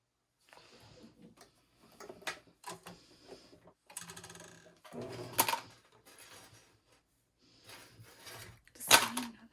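Serger sewing machine stitching fabric together for a blanket, running in short separate bursts with clacking and mechanical whirring, each burst starting and stopping abruptly, close by.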